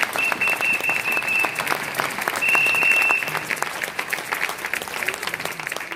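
A church congregation applauding, a dense, steady wash of clapping hands lasting several seconds, with a few voices calling out over it.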